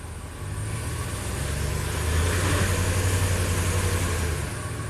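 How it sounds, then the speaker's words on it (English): A Ram pickup's HEMI V8, running in a low-power fault mode, revs up from idle to a steady, louder rumble and then eases back slightly. The engine is close and heard alone, with no talking. "so if I rev it up a little bit, let's put it in gear"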